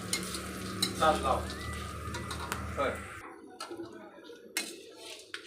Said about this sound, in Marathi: सुंठ लवंग जंगली विलायची आणि त्रिफळ छानपैकी भाजून झालेलं आहे